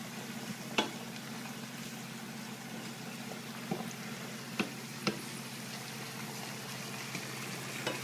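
Fresh garlic simmers in a pan of meatball sauce, giving a soft continuous sizzle and bubble with occasional faint ticks and clinks, low and steady, with no talking.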